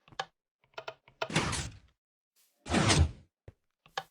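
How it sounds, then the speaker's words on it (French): Minecraft redstone door in the game, with small clicks followed by two loud sliding piston whooshes as the blocks move, separated by a pause and heard without talk. "Sinon, votre porte fonctionne magiquement."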